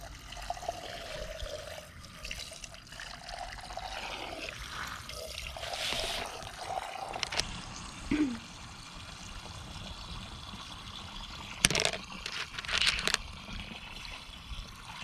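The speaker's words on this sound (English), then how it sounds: "I'm also rinsing these off really well" Tumbled bloodstone stones are rinsed under a running tap, giving a steady close trickle and splash of water with a few brief clatters and louder splashes near the end, no talking.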